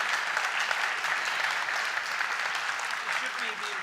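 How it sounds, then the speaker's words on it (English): An audience at the Health and Care Research Wales Awards 2025 applauds an award winner, a steady, unbroken wash of many hands clapping throughout. "Let's give him a round of applause."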